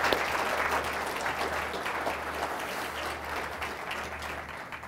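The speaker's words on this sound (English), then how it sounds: "Let me ask you to please join me in a round of applause to thank Charles" Audience applause for a guest speaker named Charles at a Friday Forum talk, dense and steady across the room without pause, with a low hum running underneath.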